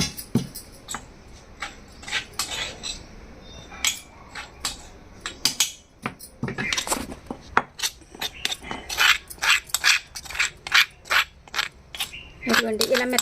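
Garlic pounded with salt in a mortar, a series of sharp, close knocks that come irregularly at first and then quicken into a steady rhythm.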